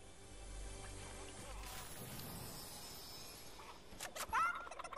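A chicken in Fortnite clucks and squawks over a dense game soundscape of rumble and clatter, its calls growing louder and choppier near the end.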